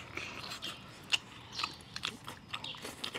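Close, faint bites and chewing on braised spicy duck wing roots, first stewed and then braised. Scattered small crunches and soft mouth sounds come at an uneven pace in a quiet room.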